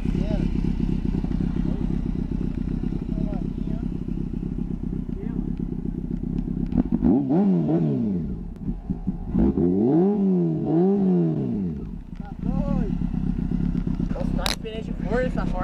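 A motorcycle engine idles, then revs up in several loud rising and falling bursts close by, with people talking over it.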